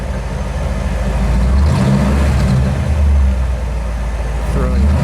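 A Flame Red 1957 Ford Thunderbird's engine is revved up from idle, a loud, deep, steady roar close by that swells briefly, with voices faintly underneath.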